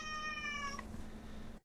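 A single cat's meow, drawn out and tonal with a falling end, sounds close and fairly quiet over a low steady background hum, with no one talking.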